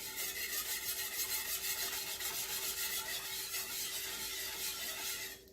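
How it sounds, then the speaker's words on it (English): A whisk scrapes steadily through butter and nutritional yeast in a pot, a continuous close-up rasping and rubbing that runs for several seconds with no talking. "You can hear that whisking sound."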